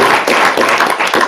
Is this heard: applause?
yes